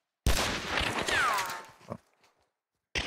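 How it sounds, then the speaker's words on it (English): A gunshot in the game Hunt: Showdown, one sharp loud report followed by a short, fading ring and echo, then a quiet gap before more noise. "They just took a shot."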